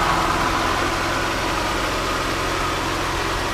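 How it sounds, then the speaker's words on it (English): A 1991 Toyota Celica GT engine idles steadily up close, an even, slightly fast mechanical drone with a low rumble and no speech, heard while the ignition timing is being set. "So we'll adjust the idle, and we can start setting the ignition timing."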